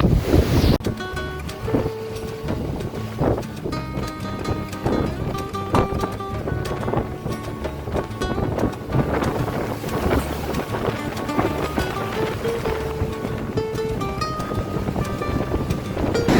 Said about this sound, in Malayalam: ഭയങ്കര കാറ്റാട്ടോ ഒരു രക്ഷയില്ലാത്ത കാറ്റ്